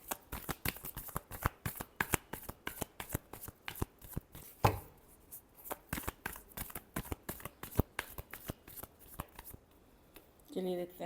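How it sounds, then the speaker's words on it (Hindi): Tarot cards shuffled by hand in a long run of rapid, crisp riffling snaps, close and steady, with a brief pause near the middle and no talking. "Last shuffle."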